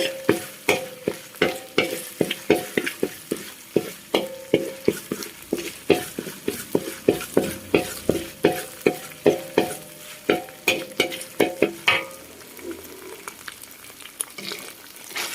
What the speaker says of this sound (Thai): เมื่อใส่พริกแกงลงไปแล้วให้ผัดพริกแกงไปเรื่อยๆ